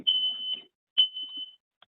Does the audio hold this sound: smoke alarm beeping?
yes